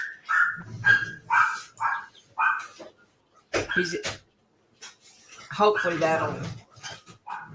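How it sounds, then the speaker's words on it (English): A dog barks indoors in a quick run of sharp, close barks, then stops while people talk nearby, with a few more yips mixed in under the speech. "y'all don't hear that dog barking too much"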